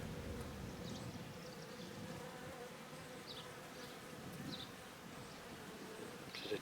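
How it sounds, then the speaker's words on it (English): Honey bees buzz inside a hive while a beekeeper works a nuc during a swarm catch, a steady, dense, fairly quiet hum with no pauses and no voices. "there's a lot of bees in here"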